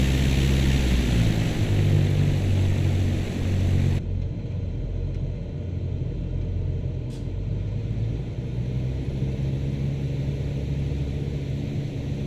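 Aircraft flying in Microsoft Flight Simulator 2024 on an IFR career flight, a steady loud engine and propeller drone with broad rumble and hiss, continuous throughout and slightly muffled partway as the view shifts, no talk.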